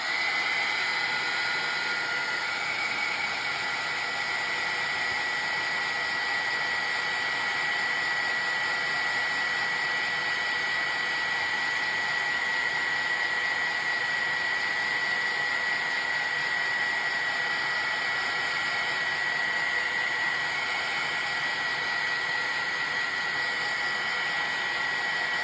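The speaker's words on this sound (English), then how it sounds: "we're going to hit this again with the heat gun" Heat gun blowing steadily on watercolor paint, a continuous loud airy hiss and whine with no breaks from start to finish.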